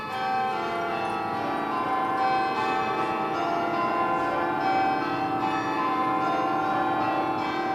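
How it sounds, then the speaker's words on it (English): Church bells of Grace Cathedral on San Francisco's Nob Hill ring out in a continuous, resonant peal, their overlapping tones sustained and fairly loud with no voices present. "That's the very familiar sound of the church bells at Grace Cathedral in San Francisco's Nob Hill neighborhood."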